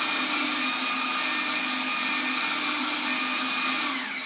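A food processor whirs steadily at high speed as it blends pesto, a loud, continuous motor drone with a bright whine that holds even throughout, with no voices.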